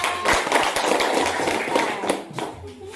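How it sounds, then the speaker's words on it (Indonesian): Students in a classroom clapping for group 1's presentation, a short, uneven burst of hand claps from several people nearby, with scattered individual claps and taps standing out over the crowd. "Tepuk tangannya mana?"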